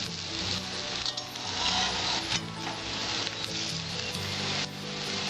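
Motor dal fritters (bora) fry in hot oil in a wok, giving a steady dense sizzle with occasional clinks and small bursts of crackling throughout.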